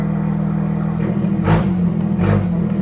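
BMW M2 engine with an open garage door nearby, idling with a steady low rumble and rising in two distinct revs, a short one and then a second, close and loud.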